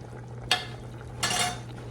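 Large-cut vegetables cooking in a pan: a quiet, steady background hum broken by two short bursts of stirring and sizzle, close and brief, no voices.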